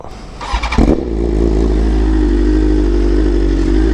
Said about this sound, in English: I honestly forgot how loud this bike is.